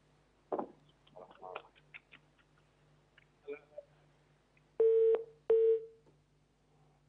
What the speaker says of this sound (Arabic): خط فصل تاني